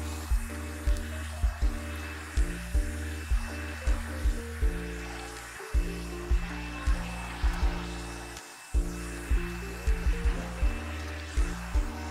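A blow dryer used for natural hair runs steadily, its motor hum switching on and off in repeated short bursts with brief gaps, fairly close and alone with no talk.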